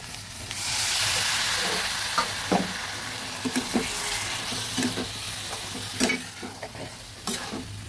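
Long beans and potato curry fry in a pan while being stirred, a steady close sizzle overlaid with repeated scraping and clinking of the spatula at an irregular rhythm.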